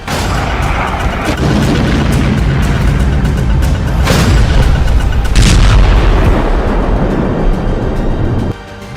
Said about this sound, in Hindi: ड्रोन से दागी गई मिसाइल के धमाके से जेलेंस्की का पैलेस भी दहल गया है।